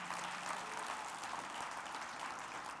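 Dense, sustained applause from a church congregation giving a clap offering, steady and even across the whole stretch, heard at a moderate distance.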